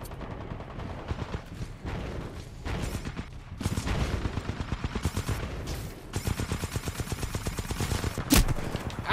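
Gunfire from a Titanfall 2 online multiplayer match rattles in rapid bursts and sustained automatic volleys, loud and close, with gaps between strings of shots and a sharp crack near the end.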